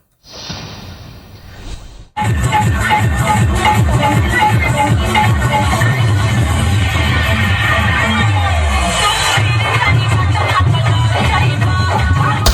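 Loud, dense crowd hubbub surrounds a DJ vehicle blasting a Bhojpuri song, the music and chatter continuous and close after a brief quieter opening.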